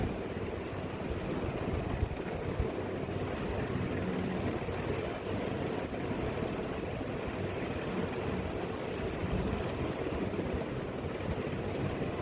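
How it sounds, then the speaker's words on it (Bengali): Eggs and potatoes sauté in a spice masala with a little water, giving a steady, soft sizzle and bubbling that carries on evenly and fairly quietly. "ভালো করে কষিয়ে নিচ্ছি ডিম আর আলু"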